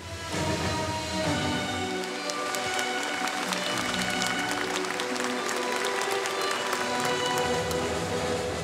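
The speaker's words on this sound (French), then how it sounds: "Finalement, applaudi par la foule." Audience at a Puy du Fou stunt show applauding, a dense, steady patter of many hands clapping continuously, fairly loud and without speech.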